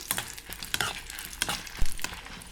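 Dried red chillies and peanuts fry in oil, crackling and sizzling close by while being stirred, with irregular scraping and popping bursts over a steady hiss.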